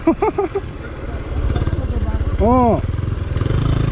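An enduro motorcycle rides a rough farmland track in Nepal, its engine chugging in a steady pulsing rhythm close by while a rider's voice talks over it.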